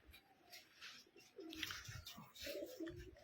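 Rajshahi Giribaj pigeons cooing softly in a few short, faint, throaty calls over quiet background noise.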